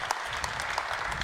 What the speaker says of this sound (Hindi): तालियां बजाइए इनके लिए आप लोग